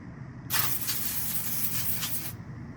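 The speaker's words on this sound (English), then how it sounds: "So let's simply spray." One continuous aerosol hiss of penetrating oil runs for nearly two seconds at close range, starting and stopping sharply over a quiet background hum.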